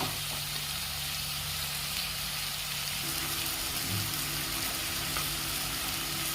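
Tomatoes sauté in a pan for mint chutney, giving off a steady, close sizzle and crackle that goes on without a break, with no one talking.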